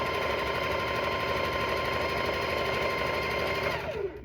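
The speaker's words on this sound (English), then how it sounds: "take your next two and sew these two together" A sewing machine runs continuously at a steady fast rate, stitching quilt rows together with a dense mechanical whir that stops abruptly at the end.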